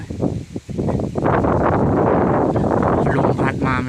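Gusty wind sweeps through low forest, a steady broadband rush that swells and stays loud and close to the microphone for several seconds, with no clear voices or birdsong standing out above it.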